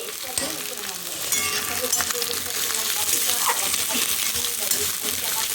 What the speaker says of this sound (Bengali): এবার এটাকে আমি ভাজা ভাজা ভাজা করব এই যে ভাজছি